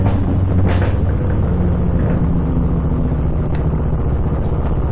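A buggy's loud, rumbling engine with a rough exhaust drones steadily throughout, heavy low-end roar with some clatter, no voices.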